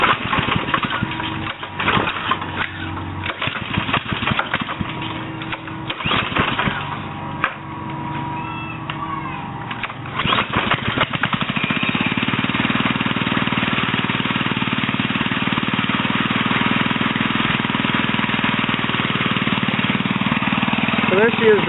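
A small gas engine on a custom motorized bicycle with a pusher trailer is started with the choke pulled. There is rough, uneven clattering and sputtering at first, then it settles into a steady, close, buzzing idle-like run.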